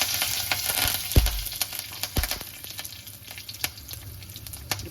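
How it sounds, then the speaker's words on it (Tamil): Urad dal, dried red chilies and curry leaves tempering in hot oil for a Coimbatore-style mochai kathirikai kara kuzhambu, a steady close sizzle and crackle with a few sharp pops and spatters. "நல்லா உளுத்தம்பருப்பு பொரிஞ்சதும் வரமிளகா, ஒரு 7 to 8 கருவேப்பிலை"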